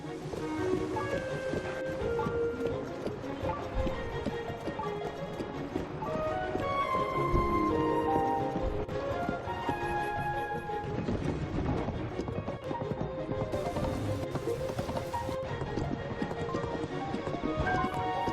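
Steady galloping hoofbeats of a horse in The Legend of Zelda: Tears of the Kingdom run throughout, mixed with a busy musical score that carries on without pause for the whole stretch.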